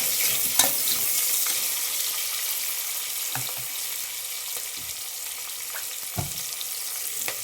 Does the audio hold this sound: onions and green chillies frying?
yes